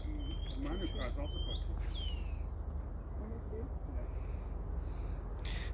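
Shining cuckoo (Chrysococcyx lucidus) calls: a few rising, whistled notes in quick succession, then a longer slurred note, fairly clear over steady background noise.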